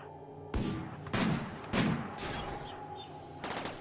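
Sniper rifles fire in the colony-sim game RimWorld: about five sharp, loud separate shots at uneven intervals, each with a short booming tail, over a low steady game-sound bed.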